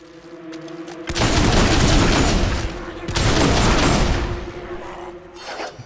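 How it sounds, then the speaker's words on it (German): Rapid gunfire from a firearm in the video game Fable 2, firing like a machine gun in two loud sustained bursts separated by a brief pause, with faint background music underneath. "Die Sache ist, die Schusswaffe ist voll lächerlich. Das ist wie ein Maschinengewehr."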